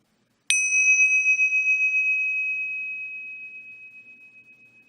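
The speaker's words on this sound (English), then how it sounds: "you're going to be listening to the bells and just listen to them" A single meditation bell struck once, its clear, bright tone ringing out alone and fading very slowly over several seconds.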